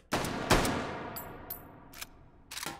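Sharp gunshots from an APS pistol in the VR shooting game Hot Dogs, Horseshoes & Hand Grenades: a few close, distinct cracks with short decaying tails, followed by lighter metallic clicks.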